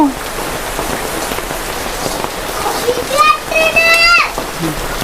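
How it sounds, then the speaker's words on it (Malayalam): Steady rain patters on a surface throughout, with a few brief higher cries or squeaks briefly rising above the downpour near the end. "ഈ മഴയത്ത് എങ്ങനെ പോവാൻ തോന്നണില്ല"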